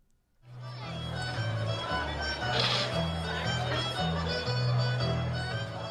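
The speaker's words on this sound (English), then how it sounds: "That's the sound of Belfast Culture Night" Lively outdoor crowd ambience at Belfast Culture Night, with a steady thumping bass beat and music playing, voices and chatter mixed throughout, continuous and fairly loud after a quiet start.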